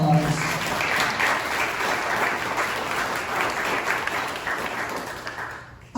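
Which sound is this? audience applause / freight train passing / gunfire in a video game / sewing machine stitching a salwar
audience applause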